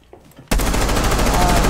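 A burst of gunfire through a wall in Rainbow Six Siege erupts suddenly after a near-silent moment, rapid repeated shots running loud and close to the end.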